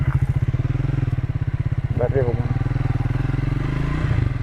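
A Triumph motorcycle rumbles close by with a deep, steady throbbing engine pulse, and someone speaks briefly over it.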